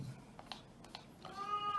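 A cat meows once, faint and short, near the end, after a few light tapping and clicking sounds in a quiet room.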